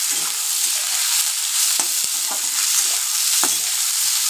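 Sliced onions frying in oil in a pan, a constant loud hiss with a few scraping stirs and light clicks of the spatula, no voices.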